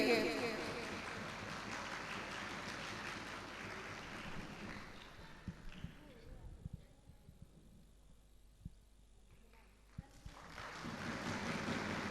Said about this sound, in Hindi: भरपूर तालियां कीजिए क़यादत स्कूल सिस्टम के लिए